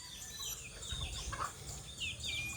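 A chicken clucks softly in short, faint bursts over a low outdoor background, with no voices.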